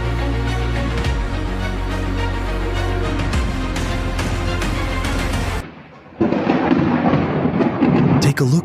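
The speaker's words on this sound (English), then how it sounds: "a powerful lightning bolt strikes just meters from a residential home" A powerful lightning strike lands just meters from a residential home in Agua Fria, Salgado, Brazil, followed by a loud, close, rolling thunder crash that cuts out abruptly, then another burst of heavy rumbling noise.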